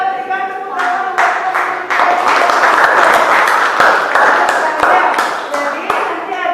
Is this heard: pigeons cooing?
no